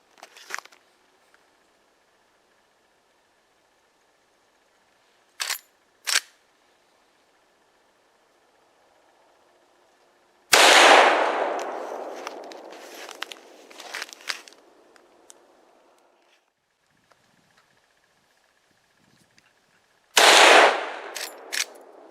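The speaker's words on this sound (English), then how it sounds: "we're going to shoot a couple shots and we'll go down and see where it hits" A Rossi R95 .30-30 lever-action rifle fires outdoors, two loud sharp gunshots about ten seconds apart, each with a booming decay. Quieter clicks and handling noises come between the shots.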